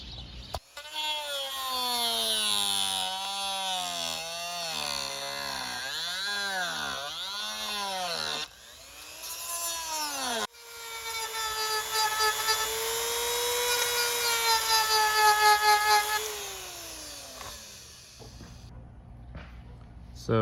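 Power tool trimming down a part for a fuel tank on a Bike Bug Deluxe motor, a loud high whine that rises and falls in repeated passes, then a sustained cut that winds down.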